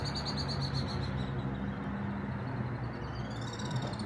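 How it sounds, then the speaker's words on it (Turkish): Birds chirp and trill in repeated rapid phrases against a steady outdoor hum, the calls soft and somewhat distant. "Kuş sesleri eşliğinde oh anca serinledi"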